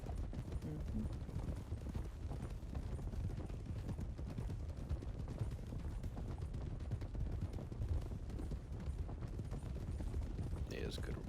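Horse hooves clip-clop steadily on the ground in a Western-style scene, a dense, continuous patter heard under a noisy background with talk at times.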